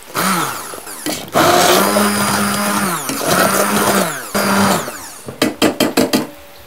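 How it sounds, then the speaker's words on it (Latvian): A kitchen blender pureeing tomato sauce for a spicy soup, loud close whirring bursts that rise and drop as the blade spins and stops, ending with several short pulses. "Sablenderēšu man tomātu mērci."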